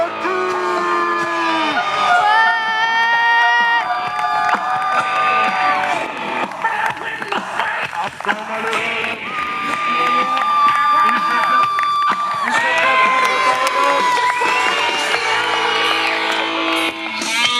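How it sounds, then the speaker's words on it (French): A wrestling crowd at a CWF show roars and whoops for the wrestler TNT, with dense, loud cheering that runs unbroken for the whole stretch, and an announcer's voice is heard in it. "un tonnerre d'applaudissements pour TNT"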